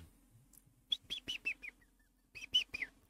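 Several quick, bright bird chirps arrive in two short bursts with a pause between them, clear and fairly close over a faint low background hum.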